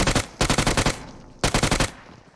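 Two bursts of rapid automatic gunfire in a video game, sharp and loud, with a short silent gap between them.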